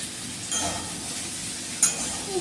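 Aloo posto, potatoes cooked with poppy seeds, sizzles softly in a pan while being stirred, with a couple of brief utensil clinks against the pot.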